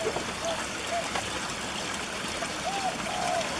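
Water running through a pond trickle filter makes a steady, close, continuous trickling rush that fills the whole clip, with a few faint whistling calls in the background.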